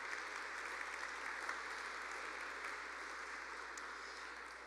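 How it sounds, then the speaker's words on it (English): Steady audience applause at an advertising awards hall of fame ceremony, a dense even wash of many hands clapping that holds at a constant level throughout, with no voices over it. "Another round of applause for everyone so far."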